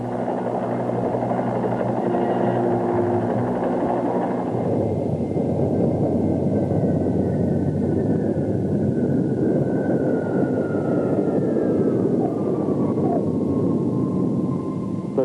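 Army helicopter operating over rough seas in high winds during a logistics test, a loud continuous rotor and turbine roar with a whining tone gliding downward, steady and close for the whole stretch.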